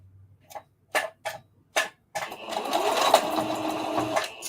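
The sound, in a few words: sewing machine stitching a circle dress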